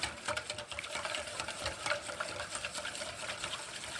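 Basting liquid seasoned with salt and pepper is whisked up in a small container for rotisserie lamb shoulder kebabs, a soft continuous swishing and sloshing of liquid being stirred, close and fairly quiet with no talk.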